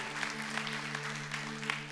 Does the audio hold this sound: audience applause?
yes